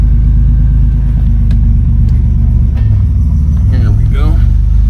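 A 1987 Buick Grand National drives along with a steady low engine rumble throughout, close and constant, with a brief rise near the end and people talking over it.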